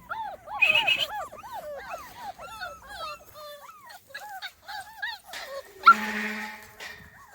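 Small Munsterlander puppies, two and a half weeks old, whimpering and yipping in a rapid string of high, wavering cries. A louder squeal comes near the end, and someone moves about nearby.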